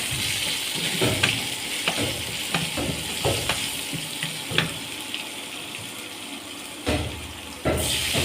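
Spice masala for a jute-leaf and fish bhuna is sautéed and stirred in a pan, a continuous hiss of frying broken by repeated scraping and knocks of the spatula against the pan.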